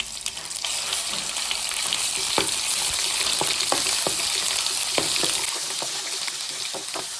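Ginger sizzles and crackles steadily in a hot pan while being stirred for pickle-making, with sharp spatula scrapes and pops breaking through the continuous hiss at close range.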